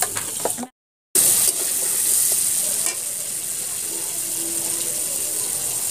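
Food fries and sizzles in a pan in a home kitchen while it is stirred, a steady close hiss broken by a brief silence and scraping stir sounds.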